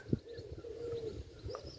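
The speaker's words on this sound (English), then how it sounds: "I'm aware of the sounds of the birds at this time." Soft cooing of doves with a few faint chirps in a quiet outdoor setting, calls drifting at moderate distance.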